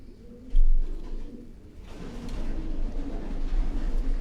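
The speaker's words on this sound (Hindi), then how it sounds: "ये भी सियालकोटी कबूतर है" Sialkoti pigeons coo in low, soft, repeated murmurs close by, with a sudden thump early on and some rustling and faint chirps in the background.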